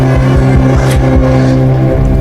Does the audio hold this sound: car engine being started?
yes